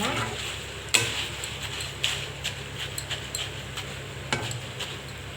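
Corn snack fries in hot oil with a steady crackling sizzle, punctuated by sharp metallic taps and scrapes of a ladle against the pan, no one speaking.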